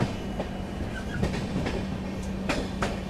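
The Jallianwala Bagh Superfast Express, train 12380 between Jalandhar and Delhi, rolls along with a loud close rumble and rhythmic clickety-clack of wheels over rail joints, with a few sharp metallic knocks.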